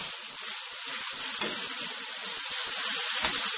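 Ingredients for ackee and saltfish fried rice sizzle steadily in a pan over low heat, a close, even frying hiss with a couple of soft stirring knocks and no talk.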